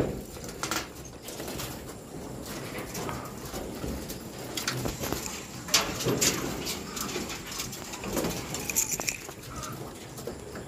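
Racing pigeons at a loft during training, with soft cooing and rustling wing flaps over a busy outdoor background, fairly faint, with occasional distant clatter and a brief human voice.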